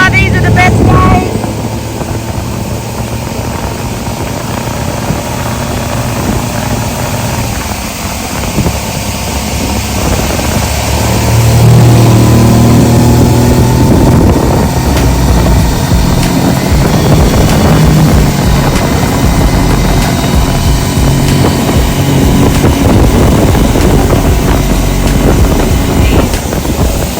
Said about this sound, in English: Riding this boat like Schumacher